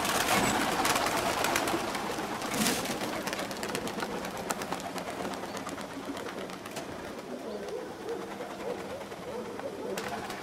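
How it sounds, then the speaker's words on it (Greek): A flock of pigeons in Veroia, Greece, arrives overhead, with flapping wings and cooing over outdoor ambience and faint background voices. "Πάμε να τα καλέσουμε τα περιστέρια."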